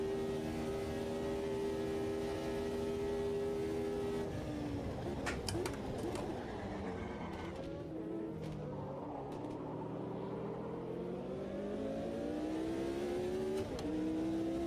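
A 1983 Formula One turbo race car engine with a V8 turbo Alfa Romeo nearby, racing at the San Marino Grand Prix, drones continuously with shifting revs and overlapping engine tones, loud and steady throughout with no talk.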